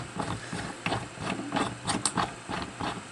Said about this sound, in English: I just kind of ran it like a router and just rotated the part under the cutter